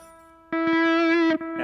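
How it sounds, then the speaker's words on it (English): An electric guitar played through a distortion effect on an Ampero multi-effects pedal rings out a brief, bright, buzzing sustained note after a moment of faint hum, then cuts and restarts. "without this pedal, basically it's so noisy because there is a lot of distortion"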